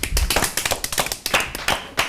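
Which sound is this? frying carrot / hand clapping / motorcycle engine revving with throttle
hand clapping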